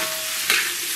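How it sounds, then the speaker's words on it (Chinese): Pork belly, scallion, ginger and onion are stir-fried in a wok with a dense, steady sizzle. One brief scrape of the spatula breaks in midway. "然后继续给它煸炒一下"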